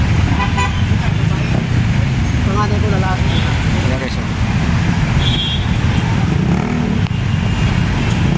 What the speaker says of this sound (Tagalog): Intersection kasi ito dito guys, kaya medyo matraffic dito.